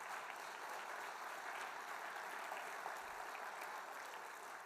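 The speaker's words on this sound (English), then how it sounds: "Give them a round of applause" Rounds of clapping from a keynote symposium audience, continuous and even but fairly faint and distant, sustained through the whole stretch with no voices over it.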